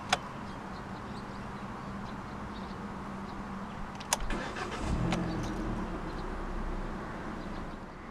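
A 2014 Proton Iriz 1.3 Executive with a manual clutch is started with a twist of the key: a click, a brief crank, then the engine catches and settles into a low, quiet idle rumble, with no talking.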